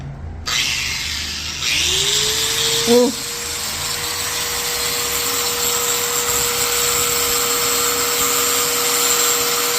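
An angle grinder cuts through a part during a scooter repair, giving a steady, loud, continuous whine with a rising tone partway through and a brief bump near the three-second mark.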